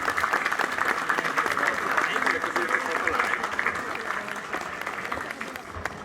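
An audience at a ceremony claps in a dense, sustained round of applause that stays loud and even, then eases slightly toward the end.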